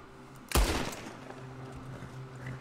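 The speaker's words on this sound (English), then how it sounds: "You shoot a prisoner in a cage?" A single loud, close gunshot in Red Dead Redemption 2, fired at a prisoner held in a cage, with a booming crack that decays into a lingering rumble over quiet game ambience.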